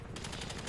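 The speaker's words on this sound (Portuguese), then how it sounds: "Tá atirando." Gunfire in a GTA roleplay game, a short, faint, muffled burst of rapid shots heard alone.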